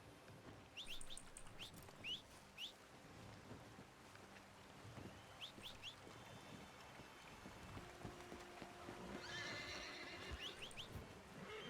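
A horse whinnies faintly amid the outdoor ambience of the video game Red Dead Redemption 2 (RedM roleplay). Soft bird chirps and a low steady background hum play throughout, all at low volume.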